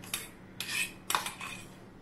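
A spoon scraping and clinking against a bowl as ground green chilli and ginger paste goes into dhokla batter, three short bursts of metal-on-dish sound at close range, quiet and without talk.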